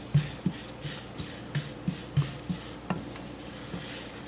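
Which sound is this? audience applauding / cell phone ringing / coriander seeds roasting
coriander seeds roasting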